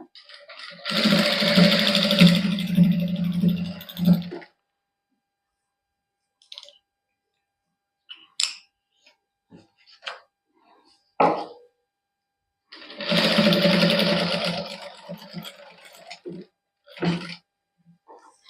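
Sewing machine stitching a lace-trimmed neckline on a matching salwar suit, running in two loud, steady bursts of several seconds each with quiet handling clicks and brief talk between them.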